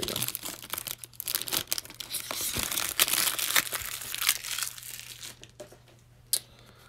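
Crinkling and tearing of a foil basketball card hanger pack, 2019/20 Hoops Premium Stock, as it is ripped open up close, with continuous rustling and sharp crackles throughout and no talk.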